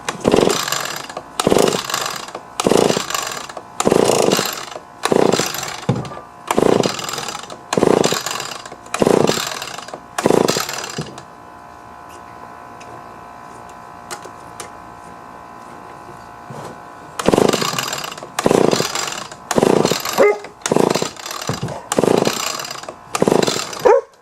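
An Echo two-stroke leaf blower with the choke on is pulled repeatedly in rapid rhythmic bursts of recoil-starter ratcheting, pausing briefly in the middle, then resuming the pulls without the engine catching.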